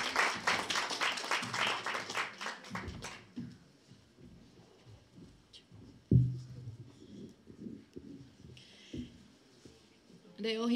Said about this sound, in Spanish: vamos a darles un fuerte aplauso y bienvenidas